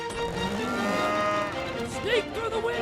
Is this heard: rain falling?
no